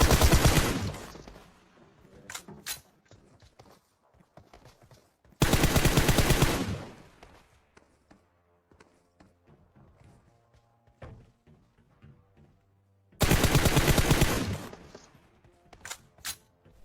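Bursts of rapid gunfire in PUBG Mobile erupt three times, loud and close, separated by quieter stretches of scattered thuds and faint footsteps.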